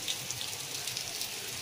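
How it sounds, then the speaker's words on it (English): Torrential storm rain viewed from a road, a steady broadband hiss of heavy downpour with scattered drop patter, continuous and fairly close throughout, with no talking. "Look at that rain from the road."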